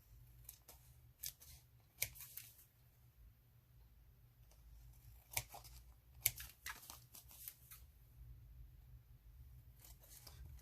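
Scissors snip in short, quiet, irregular cuts as they trim the excess edges from a handmade paper tag, with faint rustling of the paper between cuts.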